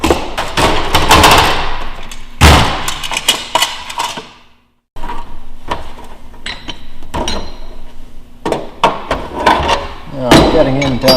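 Metal riveting on the pilot's door of a Fleet Canuck aircraft under restoration: repeated sharp knocks and thuds, close and loud, in uneven bursts with a brief silent pause midway.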